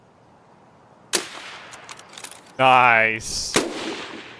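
Two loud, sharp Mosin sniper rifle shots ring out in a video game, a few seconds apart, and a player speaks briefly between them.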